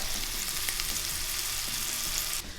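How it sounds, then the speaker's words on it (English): Scallops sear in a hot pan with a steady, dense sizzle that holds close and even throughout, easing slightly at the very end. "My scallops are searing nicely."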